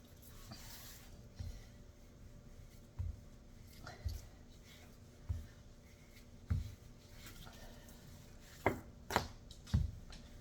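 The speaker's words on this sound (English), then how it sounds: "keep rolling it till you get it the size of your pie pan" Pie crust dough for a sweet potato pie being rolled out with a rolling pin, soft repeated thumps and rolling strokes at a steady rhythm, a dull knock roughly every second, close by in a quiet kitchen.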